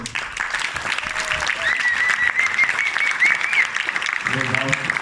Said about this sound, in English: We had a lot of volunteers that deserve a round of applause.